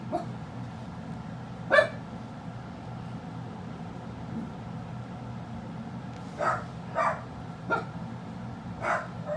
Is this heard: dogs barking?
yes